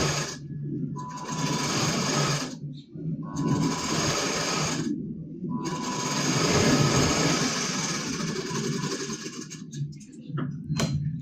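A sewing machine runs in bursts while double-stitching a blouse seam, whirring steadily with short pauses between runs, close and fairly loud.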